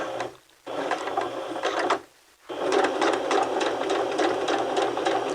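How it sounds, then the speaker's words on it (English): A sewing machine runs steadily while backstitching a skirt seam at the 5/8 inch line, with two brief pauses where it stops before whirring loudly again, close and continuous, with no talk. "we're going to backstitch first"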